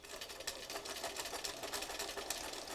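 A sewing machine stitches with sliver thread in a fast, even, continuous rattle of needle strokes, close and steady, with no voices.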